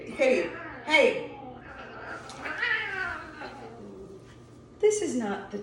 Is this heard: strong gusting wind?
no